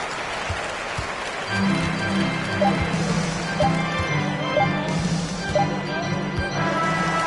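A virtual arena crowd in the NBA 2K23 basketball game roars and cheers in a sustained wash of noise, loud and steady, with a commentator's voice running over it.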